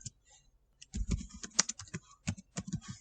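Close, quiet typing on a computer keyboard while writing Python code: bursts of quick, irregular key clicks after a near-silent start, with a few sharper taps standing out.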